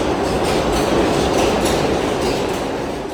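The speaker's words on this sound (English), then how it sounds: "the trains are way too loud in the background" Trains rumble past in New York City with a loud, steady rolling roar and faint clickety-clack of wheels, filling the scene without a break.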